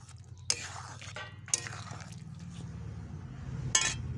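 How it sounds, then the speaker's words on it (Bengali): Egg aloo dum with chopped coriander leaves stirred in a cooking pot: sharp metal spoon clinks against the pot at three moments amid soft scraping, under low background hum. "এবারে একটু নেড়ে দিচ্ছি।"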